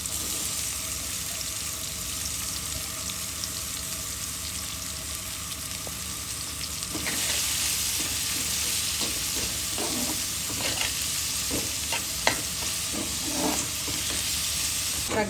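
Onion lightly frying in oil in a home kitchen, a steady soft sizzle that grows louder midway, with scattered clicks and scrapes of a utensil against the pan; no voices.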